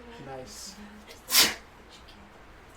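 A single sharp sneeze from a person around a tabletop roleplaying game session, brief and moderately close, preceded by quiet conversation.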